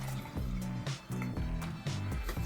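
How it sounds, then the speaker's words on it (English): Water drips and trickles out the bottom of a freshly watered cannabis plant pot, a faint close series of soft liquid drops and splashes at an uneven rhythm, with no talking. "It's starting to drip out the bottom now."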